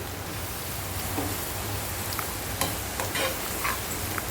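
Ground spices and garam masala fry in a pan for a mushroom curry, giving a continuous close sizzle with occasional soft stirring scrapes and small pops.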